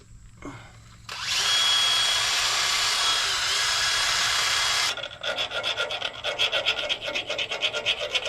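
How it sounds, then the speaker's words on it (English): A round file rasping burrs off the bore for a new anchor pin on a Ford L8000 rear air brake, first a long steady grinding rasp, then a rapid rhythmic series of short back-and-forth strokes, close and loud. "taking a round file and getting off any burrs on the side that would stop this new anchor pin from sliding easy"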